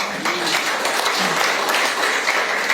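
A church congregation applauds during a Sunday service, a dense, steady wash of many hands clapping throughout, fairly loud and unbroken.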